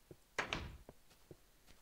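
A door opening in the video game Minecraft, a couple of quick wooden clunks close together, followed by faint footsteps and small clicks.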